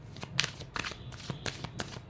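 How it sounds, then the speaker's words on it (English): Tarot cards are shuffled by hand in quick, soft riffling bursts, about five of them in an uneven rhythm, close and quiet with no voice over them. "I'm shuffling the cards"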